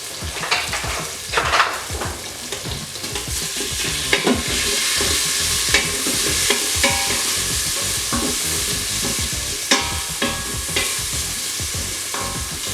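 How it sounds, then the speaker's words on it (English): Half a white onion sizzles and browns in a hot pan for a Punjabi rajma-and-rice dish. A steady, dense frying hiss runs throughout, broken by frequent scraping stir strokes and occasional sharper pops, all close-up with no one speaking. "And then in this rice recipe, I really like to brown my onions."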